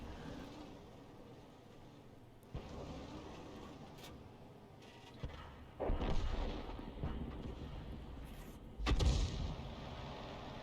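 Howitzer fire from a leFH18B2 in a tank video game: a few heavy booming shots with rumbling tails, the loudest near the end, over steady low game ambience.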